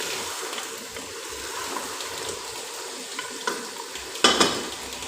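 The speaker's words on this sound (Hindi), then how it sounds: "इनको चम्मच के साथ हिलाते रहना है" Masala is stirred with a spoon in a frying pan while cooking a mutton paya curry, making soft continuous scraping and faint sizzling up close, with a sharper spoon clatter near the end.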